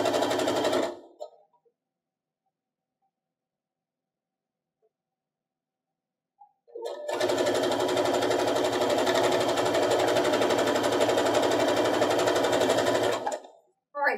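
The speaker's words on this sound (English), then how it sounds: "take it straight to my sewing machine" A domestic sewing machine stitches pieced fat-quarter quilt blocks: a short close burst of rapid needle clatter, then a long pause, then an even, steady run of stitching lasting about seven seconds before it stops.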